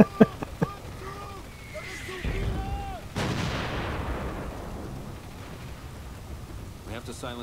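Heavy 88 mm artillery guns fire in a Company of Heroes Normandy battle, sharp distant booms early on, then a big blast at about three seconds with a long rumbling decay, a few voices and battle noise underneath.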